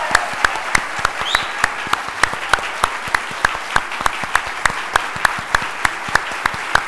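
Steady, rhythmic clapping rings out from an audience welcoming a spiritual leader at a conference, with sharp, evenly spaced claps over a dense bed of applause.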